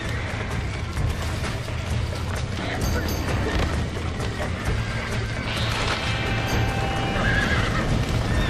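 Horses whinny and neigh over steady clip-clopping hooves in Red Dead Redemption, set against a dense, continuous game soundscape with no clear speech.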